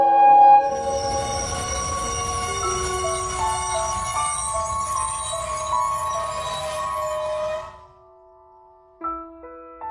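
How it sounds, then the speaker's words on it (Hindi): Train approaching on railway tracks with a loud, sustained rumble and ringing metallic squeal of wheels on rails for several seconds, cutting off abruptly near the end. "ट्रेन आ रही है"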